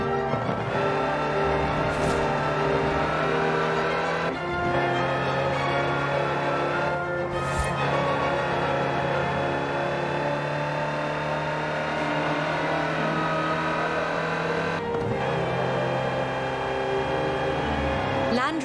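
Land Rover Type 3 engine in Forza Horizon 4, a steady droning motor hum with strong harmonic tones held throughout, shifting pitch a few times with brief clunks as it changes load, a voice talking over it.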